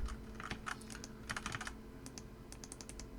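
Computer keyboard keys tapped while copying and pasting text with Ctrl C and Ctrl V shortcuts in Google Docs, a quick series of light clicks in short bursts with pauses between, close and clear over a steady low hum.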